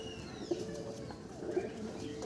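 Pigeons coo softly, two low throaty calls about a second apart, over a quiet background hum.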